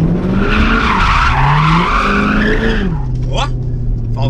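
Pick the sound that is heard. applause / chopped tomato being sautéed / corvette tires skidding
corvette tires skidding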